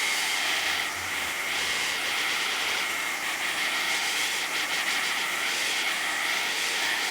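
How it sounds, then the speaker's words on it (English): A hair dryer on high setting blows steadily to dry basecoat paint on MDF, a constant close rushing hiss with no breaks. "When we are blow drying, we put it on high"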